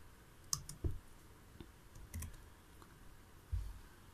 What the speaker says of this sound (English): mag-type na lang kayo ng gusto nyo ilagay